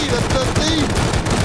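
Gunfire in the survival game Rust, a rapid close burst of automatic shots rattling continuously for the whole moment, loud and dense with faint voice chatter mixed in.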